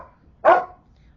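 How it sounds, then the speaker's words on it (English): A single loud dog bark, close by, sharp and short, standing out against a quiet room with no talking. "Hold please while I get the dog under control as best as I can."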